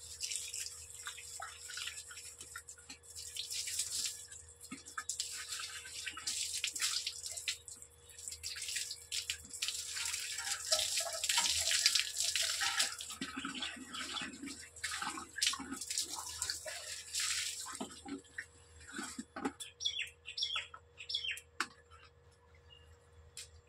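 Water splashing and running during a bath, a steady wash of pouring water with scattered drips and splashes, fairly close and continuous, with no talking.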